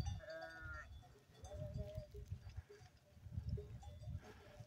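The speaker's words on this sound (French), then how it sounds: "Voilà, petite brebis." Sheep and ewes bleat repeatedly in a mountain pasture in late summer, several calls near and farther off over soft outdoor background noise, with no talking.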